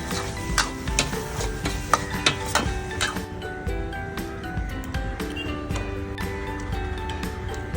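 Fried chicken liver is dropped into a pan and stirred, giving a soft ongoing sizzle broken by sharp clinks and scrapes of a utensil against the pan, close and moderately quiet.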